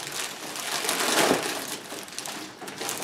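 A bag of carnival sweets pours out in a rustling, crinkling rush that swells and fades over a few seconds amid outdoor crowd noise at a Cologne carnival parade.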